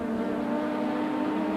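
A race car from round 4 of the 1999 STSudam series at Rosario, driven by Oscar Larrauri, roars past with a steady, loud engine drone that stays strong throughout.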